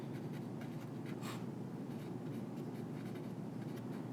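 Notes being written by hand during a biology lecture, with a steady scratching of pen on paper running throughout at a quiet, close level.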